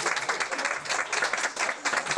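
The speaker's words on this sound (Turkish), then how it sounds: "Bir kere olsun alkışlayın arkadaşlar ya." Audience applause at a Turkish stand-up comedy show, steady dense clapping from a crowd that stays loud and continuous throughout with brief dips in intensity.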